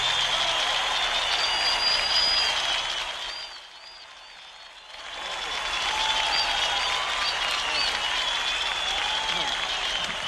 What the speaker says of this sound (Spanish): Vaya ovación.